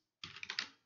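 Keys tapped on a computer keyboard while writing Python code, a quick, quiet run of close clicks that trails off, with no speech.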